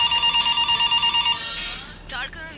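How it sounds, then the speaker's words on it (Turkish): A telephone in a Turkish sitcom rings in rapid repeated electronic trills, loud and close, then stops as someone starts talking. "Bak şu telefona."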